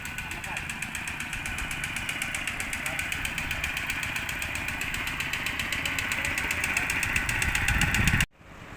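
A 40 hp three-cylinder four-stroke tractor engine idles with a steady, even chugging throb that holds constant for about eight seconds before cutting off abruptly.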